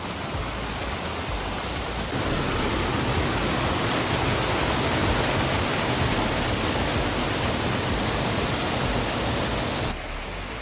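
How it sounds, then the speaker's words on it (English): Water from Pinsal Falls in Abra, Philippines, cascading over a 100 to 150 foot drop, heard from the top edge as a loud, steady roar of rushing water that fills the whole clip without a break. "So you can hear the force of the water cascading down the waterfall"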